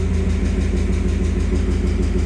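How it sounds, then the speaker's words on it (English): A car engine with a Rogue resonated X-pipe exhaust idles close by in a steady, rhythmic low throb with a fast even pulse, loud and unbroken with no talking. "Engine's not really that quiet"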